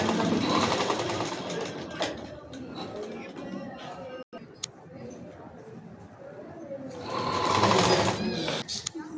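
Sewing machine running in bursts while stitching the front panel of a blouse with lining, a steady close whirring that pauses midway and resumes louder near the end, with talk faintly in the background.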